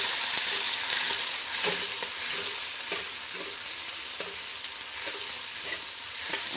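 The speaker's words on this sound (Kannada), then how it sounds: "ಇವಾಗ ನಾನು ಉಳ್ಳಾಗಡ್ಡಿ ಟಮಾಟಿ ಹಾಕೋತೀನಿ ರೀ ಎರಡು ಮಿಕ್ಸ್ ಮಾಡಿ ಒಮ್ಮಿಗೆ ಹಾಕೊಂತೀರಿ ಇವಾಗ ಮಿಕ್ಸ್ ಮಾಡ್ಕೋತೀನಿ ರೀ" Onions and tomatoes frying together in a pan, a steady continuous sizzle with scraping stir strokes recurring throughout, close and fairly loud, no voices.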